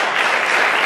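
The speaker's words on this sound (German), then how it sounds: "Jetzt können Sie noch mal klatschen." Brief, dense burst of audience clapping in a hall, steady and loud with no voices over it.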